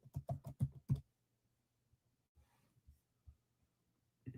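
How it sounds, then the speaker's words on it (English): A computer keyboard gets a quick burst of about six loud taps, then a few sparse, fainter clicks after a pause and one final tap near the end, all close up. "My keyboard is not working here."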